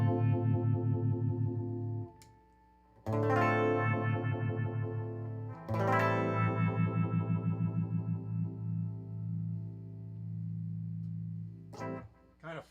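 Electric guitar chords ring out through a Source Audio phaser, modulation controlled by a ring controller, sweeping and swirling, pausing briefly between phrases, with a pulsing shimmer through the sustained notes.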